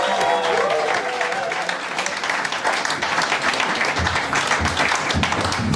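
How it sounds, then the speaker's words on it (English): An audience at a stand-up comedy battle show applauds a comedian taking the stage, dense sustained clapping filling the room, loud and continuous, with a few scattered cheers. "Give a huge round of applause for Simmonds!"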